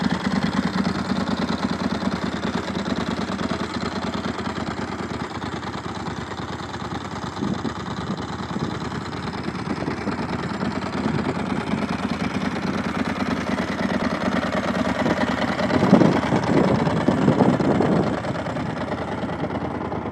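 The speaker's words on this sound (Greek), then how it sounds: "Αυτό είναι το μηχανάκι." A Ducati 996 motorcycle with a carbon Termignoni exhaust idles steadily and close by, a low throbbing rumble that swells slightly toward the end.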